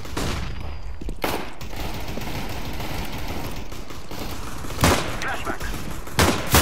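In Counter-Strike: Global Offensive, a thrown decoy grenade fakes gunfire: sharp, loud bursts of shots crack out in short clusters, one early, then a pair of volleys near the end over a busy game background.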